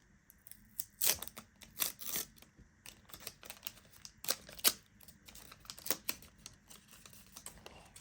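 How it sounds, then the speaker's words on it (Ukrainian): Crisp crinkling and tearing of a small paper packet, a series of sharp irregular rustles and snips, close and fairly quiet. "давайте відкриємо наш пакетик сьогодні"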